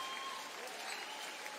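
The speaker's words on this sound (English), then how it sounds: "a big round of applause for Erin McDonald taking a seat" A basketball crowd at a WNBL game between the Perth Lynx and Bendigo Spirit claps for a player going to the bench, a faint, even patter heard from a distance.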